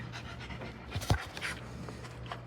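A dog pants rapidly and steadily close to the microphone, with one louder breathy huff or snort in the middle.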